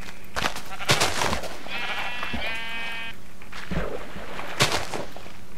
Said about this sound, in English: these sheep are just annoying me